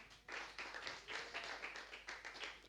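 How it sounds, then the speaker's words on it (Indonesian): A church congregation clapping their hands during a sermon, a steady rhythmic patter of many hands at moderate distance, fairly faint and continuous. "Ayo beri tepuk tangan bagi Tuhan."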